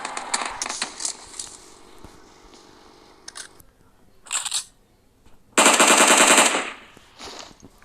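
Machine gun fire in a shooter video game, heard as several loud rapid bursts separated by short gaps, the longest and heaviest burst near the end.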